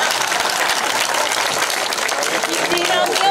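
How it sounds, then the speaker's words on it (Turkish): An audience at a poetry, tango and AI music event breaks into sustained applause, thick and even at close range, with some voices mixed in. "Alkış!"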